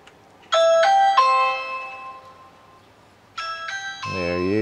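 A Ring Video Doorbell Pro 2 indoor chime rings out twice, each a bright multi-tone ding-dong melody sounding close and clear, with a quieter warbling electronic tone rising at the very end.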